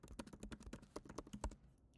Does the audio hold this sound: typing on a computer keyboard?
yes